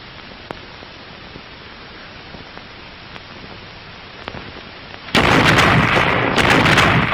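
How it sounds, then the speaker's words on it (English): Regiment's artillery guns firing in a synchronized barrage, a quiet crackling background with faint distant thumps, then an abrupt loud, dense rumble of blasts near the end. "A synchronized barrage"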